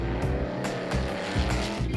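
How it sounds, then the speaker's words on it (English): Classic racing cars lapping the fast, undulating Spa circuit in Belgium roar loudly and continuously, engines surging and fading as cars pass close by, with brief tire squeal in places. "9 fields of classic cars get out on the fast and undulating Belgian track during the day"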